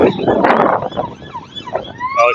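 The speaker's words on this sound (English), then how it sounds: "I can hear sirens!" A wailing ambulance siren in Blackpool sweeps up and down nearby, loud and rising and falling over street noise.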